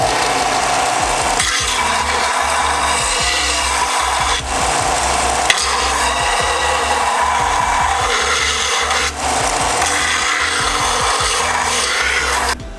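A belt sander grinds cut metal parts for a custom bash bar, a loud continuous abrasive rasp with slight surges in pressure, running steadily without pause.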